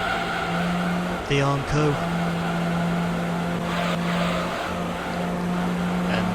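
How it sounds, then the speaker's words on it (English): Tyres squeal on a car rounding a wide hairpin in a Gran Turismo 3 race, a steady high whine over engine noise, with someone talking briefly partway through. "tyres are literally squealing at the moment as we head through that very wide hairpin turn"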